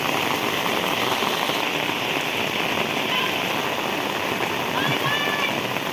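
Heavy rain pours steadily onto surfaces and street water, a loud, unbroken hiss of dense drops.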